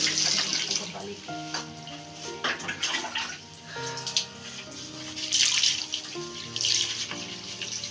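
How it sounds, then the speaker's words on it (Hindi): Water pours and splashes into a container being cleaned of stains by hand, with a continuous running flow that surges and eases, alongside faint tonal background sound. "अभी मैं पानी डाल रही हूँ इसमें।"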